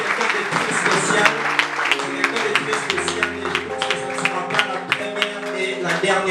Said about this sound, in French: que ça fasse un tonnerre d'applaudissements pour notre formateur